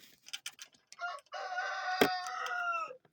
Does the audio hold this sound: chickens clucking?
yes